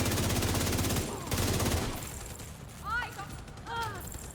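Rapid video game gunfire rattles in loud automatic bursts at the start, then gives way to quieter clicks and mechanical sounds with brief tonal chirps.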